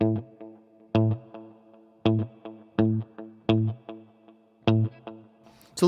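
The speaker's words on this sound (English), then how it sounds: "Turn the delay mix down just a bit." Electric guitar played through a Wampler Ethereal reverb/delay pedal with the delay mix turned down: six or seven evenly spaced strummed chords ring out with short, soft echo tails, played alone with no talk.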